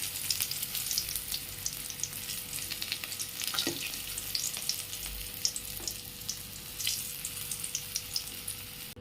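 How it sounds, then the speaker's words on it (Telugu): Stuffed bitter gourd fries in oil in a pan, a continuous close bubbling sizzle with small pops and a few clinks, no voices over it. "వాటిలో పేర్చి ఇలా ఆయిల్ ఫ్రై చేస్తున్నాను"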